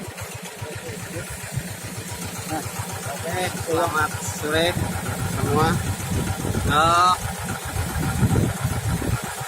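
Diesel engine running on solar fuel, driving a paddlewheel, idles with a steady low chugging pulse throughout while people speak over it nearby.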